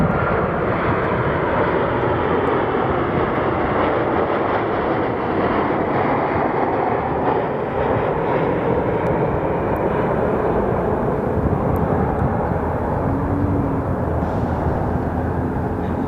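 American Airlines flight 2646 from Cabo arrives at Phoenix Sky Harbor, a loud, steady jet roar that fills the whole stretch without letting up.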